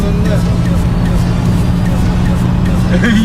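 A BMW E30 320 racing side by side in a rolling race, its engine a loud, steady drone heard from close by for the whole stretch, with no break or change in pitch.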